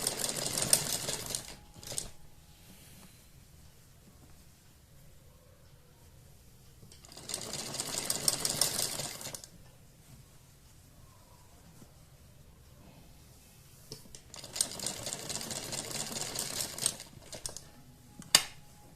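Sewing machine stitching a puff sleeve onto a blouse in three separate bursts of rapid, whirring, clattering stitching, close by, with quiet pauses between runs and no talking.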